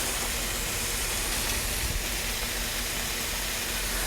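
Blackened salmon sears on a non-stick aluminum griddle with a steady, even sizzle that hisses without break, moderately close.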